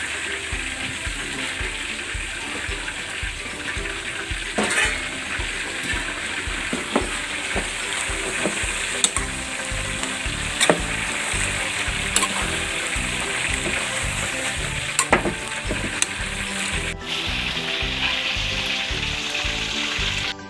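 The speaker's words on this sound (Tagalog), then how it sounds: "So ilalagay natin yung ating pechay na Tagalog." Tagalog pechay stirred into a pan of kare-kare sa gata, with a continuous sizzle under repeated scraping and clinking of a spatula against the pan, close and steady for the whole stretch.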